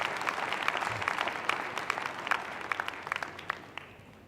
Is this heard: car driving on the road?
no